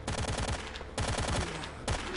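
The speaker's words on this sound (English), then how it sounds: "they're shooting that out with zombies again" Automatic gunfire in a STALKER firefight against zombies: rapid, continuous bursts, loud and close, with brief breaks between strings of shots.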